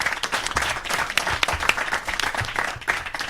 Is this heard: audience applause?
yes